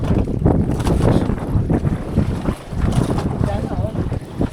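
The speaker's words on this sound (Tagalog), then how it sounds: "Grabe, lakas kasi ng hangin." Strong wind buffets the microphone in loud, gusty roars at a fishing spot with a strong current, with a hint of water sloshing beneath and no clear talking.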